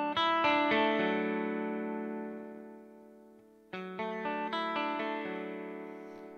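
Fender Stratocaster electric guitar with its volume knob turned down to around 4 or 3, using a 330 pF treble bleed cap, keeping a bright natural tone; ringing chords and picked notes, a long decay, then a second strummed phrase, close and alone.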